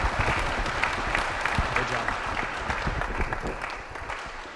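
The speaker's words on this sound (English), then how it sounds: "let's give a big round of applause for Steve and Purk'd" Audience applause at a 1 Million Cups Kansas City startup pitch event, a fairly steady wash of clapping lasting several seconds with a voice speaking over it.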